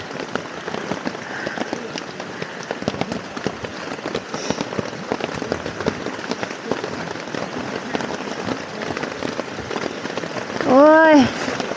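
Rain falling steadily on a mountain campsite, a dense close patter of drops on tent and ground, with faint voices and a short whistle-like tone near the end.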